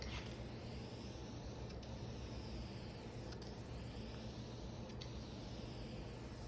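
Primer paint sprays from a can onto a part from a 1969 Buick Skylark in a steady, soft, continuous hiss, faint and unbroken, with a few brief clicks.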